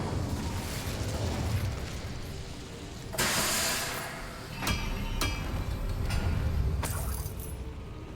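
Incendio fire spell cast in Hogwarts Legacy, a loud burst of fiery whoosh and crackle over dense game noise, followed by a few sharp pops and blasts.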